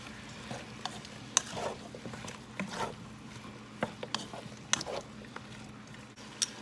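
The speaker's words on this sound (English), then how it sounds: "I'm gonna give that a stir and just let all this cook together." Sausage and vegetables cooking together in a pan while being stirred, a steady soft sizzle with irregular clicks and scraping taps from the utensil, close and fairly quiet, no talking.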